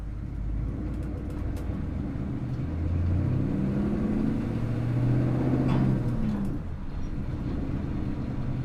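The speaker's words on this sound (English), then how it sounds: "we will stick this thing in first gear and take off" A 1982 GMC Suburban with a 6.2 diesel and straight pipes pulls away in first gear, its deep rumbling engine climbing in pitch as it accelerates, heard from inside the cab with no talking.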